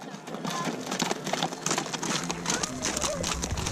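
Hooves clip-clop at a walking pace under lively outdoor chatter in Boquillas, Mexico, with a few bird calls and general street bustle.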